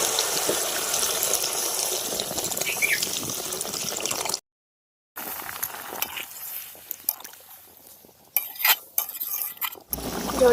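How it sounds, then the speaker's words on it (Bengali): Water poured into a cooking pot while making a vegetable fish curry, a steady splashing stream that stops after a brief silence, followed by quieter clinks and handling of metal cookware. "জল"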